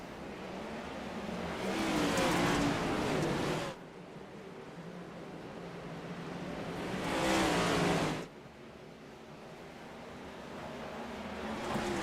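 Dirt race cars at Bristol in the iRacing video game pass in two loud surges of engine roar, each swelling and then cutting off sharply, with a steady lower motor drone continuing between them.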